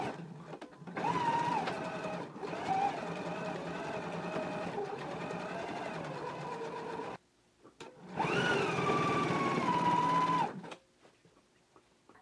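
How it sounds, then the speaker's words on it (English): A sewing machine stitches around a garment's neckband, running in two steady motorized bursts with a short pause between them, close and loud with no talk. "So let's go ahead and stitch all the way around the neckband now"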